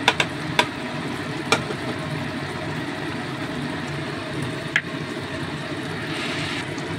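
Ghee sizzles with spices in a pan, giving a steady, moderately loud frying hiss with a few sharp clicks of utensils and no talking.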